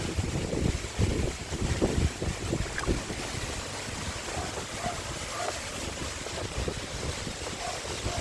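Strong wind blows steadily at Rayong, a broad, rushing roar buffeting the microphone with gusty bursts early on, then settling into a constant loud hiss.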